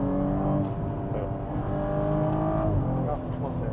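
A stage 1 tuned BMW M135i engine revs loudly and close, its rising and falling harmonic whine sweeping up and down through gear changes while people talk over it.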